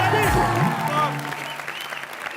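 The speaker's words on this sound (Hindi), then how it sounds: "जोरदार तालियां" Loud applause from a studio audience at a Hindi comedy entertainment show, brief and fading, mixed with tonal voices or music at the start.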